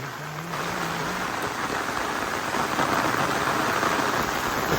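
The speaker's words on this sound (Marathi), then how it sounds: "झाली सुरुवात झाली पावसाची आता" Heavy monsoon rain pours down in a dense, even hiss, with a brief low hum at the start, no talking.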